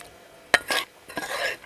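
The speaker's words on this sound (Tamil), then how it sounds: "நல்லா கலந்து விட்டுடலாங்க." Sago pearls being stirred into water at a rolling boil in a pot on the stove for a chickpea payasam, heard as two short scraping, clinking sweeps of a spoon against the pot, fairly close, with no talking.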